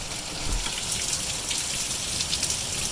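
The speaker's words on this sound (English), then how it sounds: "I guess it's raining this morning. Like a lot. Like torrential downpour." Torrential rain pours down in a dense, continuous hiss of drops striking surfaces, steady and loud throughout.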